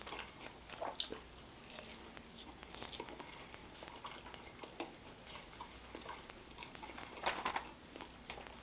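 Soft, close chewing of a juicy diner burger topped with halloumi and dill, with moist bites and small mouth noises throughout, heard quietly and alone.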